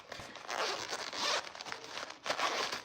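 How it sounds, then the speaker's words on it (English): A zipper on a folded lightweight backpack is pulled open in two long, close, loud zips separated by a short pause, with no talking. "You unzip it."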